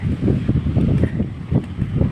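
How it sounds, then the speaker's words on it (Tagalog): Steady gusting wind on a rainy day in New Zealand buffets the microphone in low rumbling bursts, loud and close, with no voices. "Lumalakas pa ang hangin"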